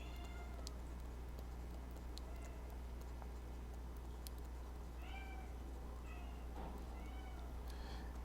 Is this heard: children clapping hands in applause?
no